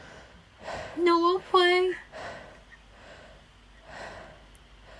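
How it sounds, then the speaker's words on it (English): Heavy, noisy breaths blown close into a headset microphone during an Among Us voice chat, several rough gusts rising and falling, with a short spoken phrase in the middle. "Why are you breathing so hard into the mic?"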